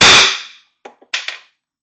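Beeman BP-50 air pistol fires a Delrin projectile: one sharp, loud crack with a short decaying tail, then a few faint clicks and a light knock as the shot lands or the gun is handled.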